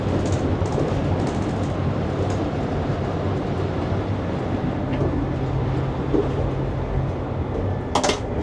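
The Eurostar high-speed train from London to Paris, heard from inside a carriage, gives a steady loud rumble and roar with faint rattles and a brief clatter near the end.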